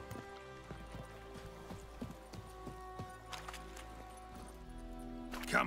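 Hooves of the horse Roach clip-clopping at a steady walking pace in The Witcher 3 video game, soft rhythmic footfalls over a low ambient music bed, with a brief louder swell near the end.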